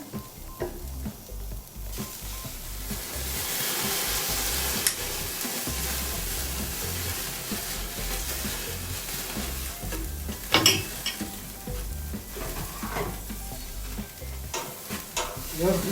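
Lobster tail and swordfish sizzle loudly on a grill while being basted, a steady crackling hiss broken by scraping and clattering from the basting and turning.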